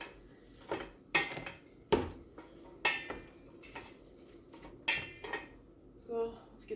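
Meat chopper breaking up hamburger in a pan on the stove while making homemade chili: repeated scraping knocks and metallic clinks in an irregular rhythm, fairly close, with a voice talking faintly underneath.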